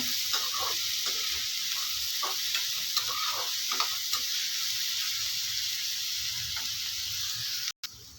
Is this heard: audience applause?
no